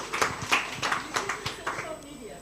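A small group at a township business workshop gives a brief round of applause, sparse rhythmic claps spaced about every third of a second, light and near, with voices mixed in.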